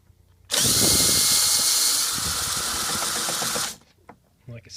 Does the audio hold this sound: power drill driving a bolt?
yes